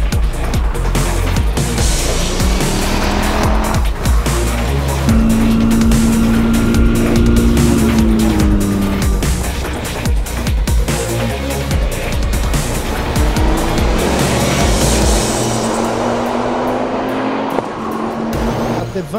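Lamera Cup race cars race at the Le Castellet circuit, engines roaring loudly and continuously as they pass close by, their pitch rising and falling through gear changes, with occasional tire noise.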